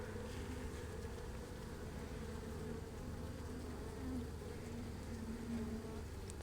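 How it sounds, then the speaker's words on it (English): Dense, steady buzzing of many honey bees at a hive in the evening, a continuous low hum with occasional louder passes of individual bees. "so a lot of bees are in the hive right now"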